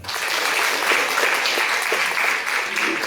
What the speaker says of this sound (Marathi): संपूर्ण परिवारासाठी एकदा टाळ्या